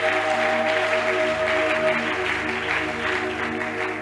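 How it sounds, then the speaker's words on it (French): Applause from a church convention audience honoring a pastor and his wife, a steady dense clatter of clapping hands that fills the hall at an even level, with a faint steady hum running underneath. "Est-ce qu'on peut les honorer en acclamant pour eux?"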